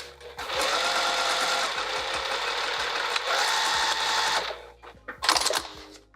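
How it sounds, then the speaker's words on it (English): A sewing machine runs in two long bursts, stitching the bottom of a zipper pocket shut, steady and close, with short pauses and a brief final run. "And now I can sew the bottom shut."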